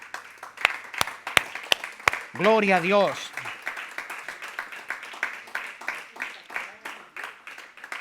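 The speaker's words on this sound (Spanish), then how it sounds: "Dale un aplauso al Señor." Church congregation at a Sunday service applauding, steady close clapping that continues for several seconds after a preacher speaks a short phrase over it.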